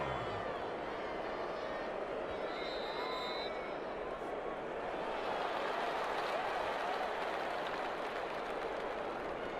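Stadium crowd roars in Madden NFL 21 during an Eagles versus Raiders game ahead of a big third down, a broad sustained swell that builds louder in the second half, with a commentator talking over it.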